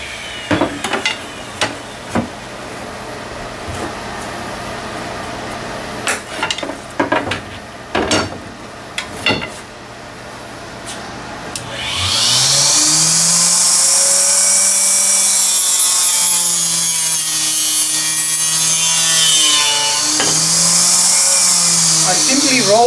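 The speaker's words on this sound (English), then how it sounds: "I simply roll the dowel into the blade and it gives me a very nice and precise cut" A small, inexpensive hand blade tool cuts a wooden dowel, with several sharp knocks and clicks at first, followed by a loud whirring, grinding tone that rises and holds for about ten seconds.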